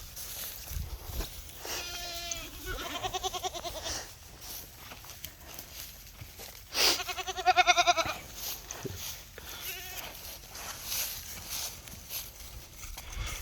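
Two billy goats bleat at a farm in several wavering, drawn-out calls, some louder and closer than others, over outdoor background noise with occasional hoof clops.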